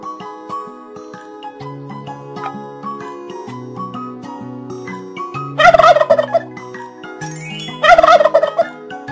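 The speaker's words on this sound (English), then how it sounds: "Turkey." Two loud, rapid gobbling bursts from a turkey ring out over a tinkling musical backing, each lasting about a second, spaced a couple of seconds apart.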